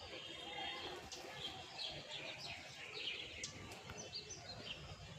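Bulbuls calling in a rooftop garden, repeated bright chirps and short call notes scattered through a steady wash of outdoor noise, fairly faint.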